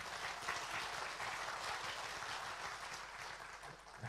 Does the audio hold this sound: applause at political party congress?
yes